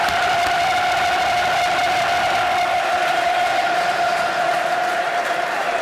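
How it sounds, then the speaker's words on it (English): Football stadium crowd at a Millwall versus Blackburn Rovers match, a dense, roaring wash of applause and cheering with a sustained steady tone running through it and no clear speech. "Well deserving of a round of applause"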